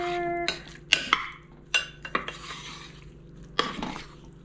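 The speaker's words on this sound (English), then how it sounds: "Let's give that a stir." A utensil stirs the sauce base for meatballs in a pot, producing a handful of distinct scrapes and knocks at uneven intervals over a quiet background.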